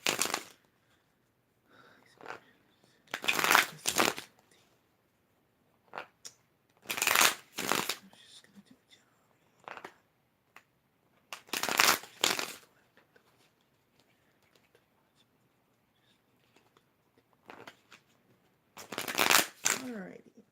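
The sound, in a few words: tarot cards being shuffled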